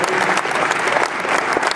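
Audience applause at the New York Pest Expo, a dense, steady burst of many hands clapping close and loud, with no talking.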